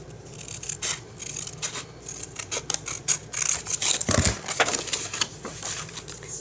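Scissors snipping and rubbing through paper while cutting pieces for a scrapbook junk journal, a quiet, close series of irregular crisp cuts and rustles with brief pauses between them.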